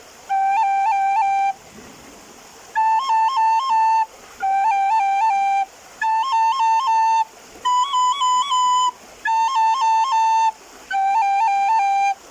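A breathy recorder plays a lively Irish tune in short phrases, with quick cuts and grace notes flicking between notes, clear and close with pauses between phrases.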